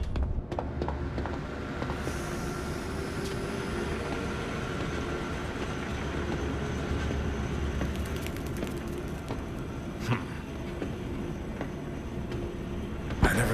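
A gadget trolley in the Zoochosis video game rolls along toward the gates, a steady rumbling, rattling run like rail wheels with a few sharper clanks near the end.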